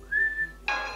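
A person whistles a single rising, then steady, high note to trigger a phone app, followed by a short bright electronic chime.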